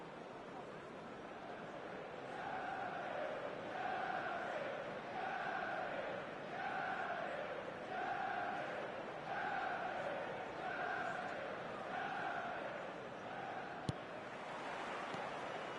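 A video game stadium crowd before kick-off in eFootball 2026 sings and chants in a steady rising-and-falling rhythm, roughly one phrase every second, a dense distant roar filling the whole stretch with one sharp knock near the end.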